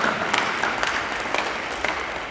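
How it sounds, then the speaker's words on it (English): Applause from a gathered audience at a celebration-of-life memorial service, steady scattered clapping filling the whole short stretch at moderate level with no voices over it. "Clap if you all together here today."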